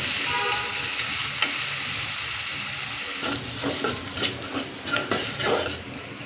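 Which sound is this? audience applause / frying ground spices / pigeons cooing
frying ground spices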